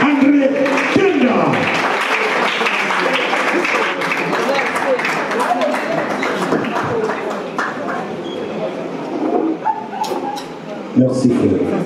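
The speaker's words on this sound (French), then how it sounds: "Applaudissez notre frère André Teta" Applause for a guest named at a wedding reception, a dense, sustained clatter of many hands filling the hall for nearly twelve seconds, with voices and cheering mixed in and a brief louder burst near the end.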